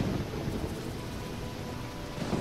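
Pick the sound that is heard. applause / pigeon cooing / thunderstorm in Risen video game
thunderstorm in Risen video game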